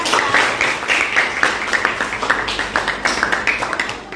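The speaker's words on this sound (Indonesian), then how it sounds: "Berikan aplaus semuanya untuk kelompok yang sudah" Audience applause for a student presentation group in a classroom: a dense burst of clapping that thins into lighter, rhythmic claps over about four seconds, close and fairly loud.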